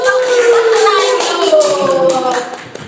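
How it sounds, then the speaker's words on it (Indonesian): Crew members behind the set of an Islamic talk show clap their hands in a brief round of applause, heard under a man's ongoing speech before fading out. "kru di belakang tepuk tangan dulu"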